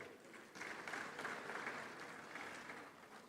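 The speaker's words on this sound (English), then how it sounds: "they deserve a round of applause for the great work they've done for the continent of Africa" Audience at the 30th Afreximbank Annual Meetings conference in 2023 breaks into applause, a steady, moderately distant wash of clapping that swells after a brief quieter start and holds for a few seconds.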